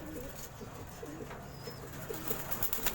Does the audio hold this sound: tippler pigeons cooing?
yes